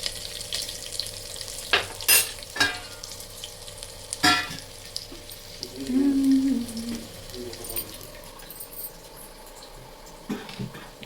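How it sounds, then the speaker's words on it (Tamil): Mustard seeds sizzle and pop in hot oil, with a few sharp clanks of a utensil and a soft murmur of a voice. "தாளிக்கிற கடுகு போட்டாச்சு"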